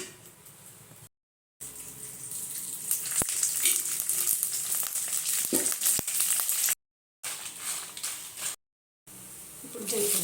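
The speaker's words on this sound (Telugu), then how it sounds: "స్టవ్ వెలిగించుకొని కళాయి పెట్టుకొని వేయించుకున్నాం" Gongura seeds fry in hot oil in a kadai on the stove, giving a steady crackling sizzle close up, with a few sharp ticks of a spoon against the pan and brief gaps of silence in between.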